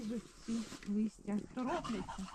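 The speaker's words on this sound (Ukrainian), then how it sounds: "наші собакени Жекері, Більба і Марсель." Dogs on a forest walk give a series of short, whining yips and barks in a quick, uneven rhythm, close by, with faint talk mixed in.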